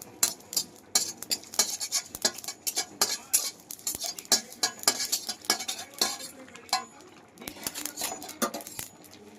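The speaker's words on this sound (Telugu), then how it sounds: "వీటిని అయితే లైట్గా ఫ్రై చేసుకొని పక్కన పెట్టుకోవాలి" Cumin and dried red chilies being lightly fried and stirred in a pan: irregular sharp scrapes and clinks of a metal spoon against the pan, fairly close, with no talking.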